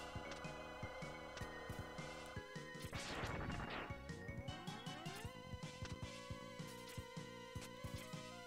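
Glass objects shatter in Megaman X2 over chiptune music, with a burst of crashing, splintering noise around the middle followed by sharp rhythmic impacts, fairly faint overall and without voices.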